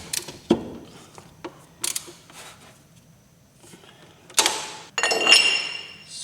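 Ratchet tightening car brake caliper bolts on a Lexus LS400: short bursts of close metallic clicking and clinking separated by pauses, ending with a longer run of ratcheting.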